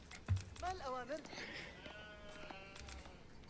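Sheep bleat in a real-time strategy game, a few short wavering cries over a low game hum, with a brief thump at the start.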